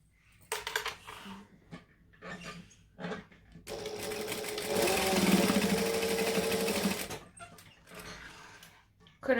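A sewing machine bastes a strap along the top edge of a sling bag, running in several short stitching bursts and then one longer steady run, loud and close.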